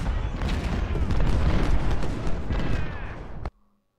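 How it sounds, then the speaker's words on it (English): Artillery fire in the Civil War strategy game Ultimate General: Civil War, a dense rumbling barrage of booms and crackling shots that rolls continuously, then cuts off abruptly. "that's a mean artillery"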